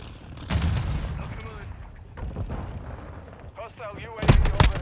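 A grenade goes off in Call of Duty Modern Warfare II as a sharp, booming blast near the end, after several muffled thuds and distant shots, with radio-style voice callouts playing over the action.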